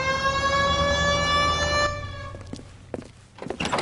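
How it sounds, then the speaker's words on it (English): A loud wailing police car siren in L.A. Noire holds steady for about two seconds, then cuts off, followed by scattered thuds and knocks. "Hit the siren."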